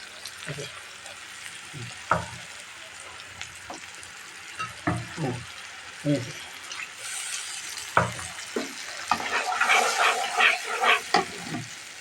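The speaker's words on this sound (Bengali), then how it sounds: "মশলাটা কষিয়ে নিই" Ground spice paste frying in oil in a pan for a fish and vegetable curry, stirred with repeated scraping strokes over a steady sizzle that grows busier toward the end, close up with no talk.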